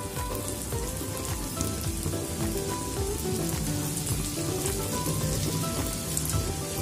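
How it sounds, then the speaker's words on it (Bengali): Paneer pieces deep-frying in hot oil for crispy pakora, a steady dense sizzle and crackle like rain on a surface, close and fairly loud, with no talking. "এভাবে আমি সব পনিরগুলোকে ভেজে নেব"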